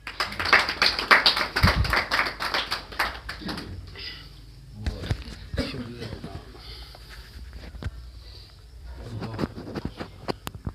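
An audience at an evening literary gathering in a hotel in Hafizabad claps, starting as dense applause that thins into scattered claps and fades. Talk is heard over it near the end.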